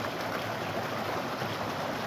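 Steady broadband rush of water from small waterfalls in a forest stream at Switzer Falls, Angeles National Forest, continuous and fairly close with no voices.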